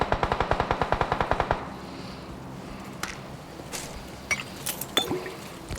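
Rapid automatic gunfire in a PUBG match, a burst of about a dozen evenly spaced loud shots, followed by scattered single distant shots and clatter.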